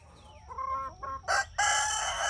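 Prairie Belle Blue hen clucking and giving loud raspy calls outdoors near a chicken coop, a few short rising clucks followed by two louder drawn-out squawks, with no talking.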